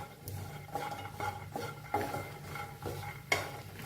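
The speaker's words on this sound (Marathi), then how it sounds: "त्याच्यातच खोबरं भाजून घेऊया" Grated coconut and peanuts dry-roasting in a pan, with a spatula scraping and knocking against the metal in a slow repeated rhythm, close and moderately loud over a low background hum.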